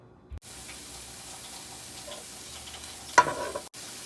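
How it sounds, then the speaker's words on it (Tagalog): Carrots fry in a little oil in a pan, a steady low sizzle with a few scraping stirs and a brief clatter of utensils near the end. "I'm frying carrots."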